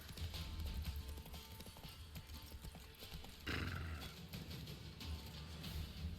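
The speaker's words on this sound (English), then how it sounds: "Geralt just made a horse noise." A horse whinnies in The Witcher 3: Blood and Wine over a dense bed of game sound and hoofbeats, the neigh rising briefly before fading back into the steady noise.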